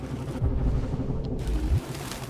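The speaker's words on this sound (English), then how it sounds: "No human could live with all these fucking pigeons." Pigeons coo in low, soft rolling bursts in the video game Detroit: Become Human, two throaty calls close by over a steady ambient hum.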